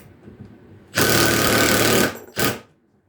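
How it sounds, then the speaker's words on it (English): A Milwaukee 2854-20 Fuel impact wrench, used as an impact driver on speed 2, runs in a loud, rapid, rattling hammering burst of about a second, then a second short burst, close by. "So my impact wrench now turns into an impact driver"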